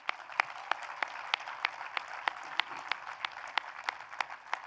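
Fairly faint applause from a university convocation audience rolls on steadily, with distinct nearby claps landing in a regular rhythm over the softer crowd wash.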